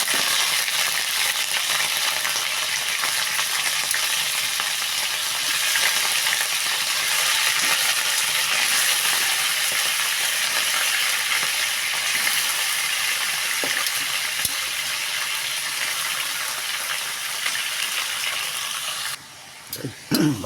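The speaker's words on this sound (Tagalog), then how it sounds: "Stir fry lang natin yung yung binabad nating ribs kanina." Pork ribs marinated in Sprite fry in hot oil in a pan, giving a loud, steady sizzle that holds for about twenty seconds with faint clinks of stirring, no voices present.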